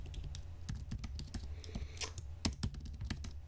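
Typing on a computer keyboard: a quick, irregular run of close key clicks and taps, with a couple of louder strikes, heard alone without talk.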